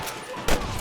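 A single loud gunshot cracks out about halfway through, from a shootout in the Old West video game Red Dead Redemption, over a busy background of game noise.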